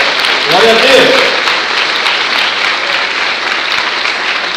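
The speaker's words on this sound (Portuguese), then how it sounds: "Posso ouvir você aplaudindo ao Senhor?" A church congregation applauding during a sermon service, sustained clapping filling the room while a voice calls out briefly near the start.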